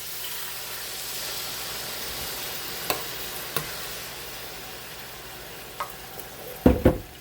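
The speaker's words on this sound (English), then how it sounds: "So we're just going to add some water right over the meat." Steady close sizzling of frying deer meat with a few scrapes, ending in a louder hiss and burst as water hits the hot pan.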